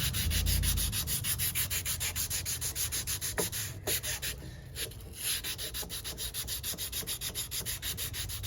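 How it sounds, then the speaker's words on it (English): An angled sanding block rubs back and forth on a wooden ceremonial pipe stem, a quiet steady rhythmic scraping of repeated short strokes, close and alone. "sand the stem here."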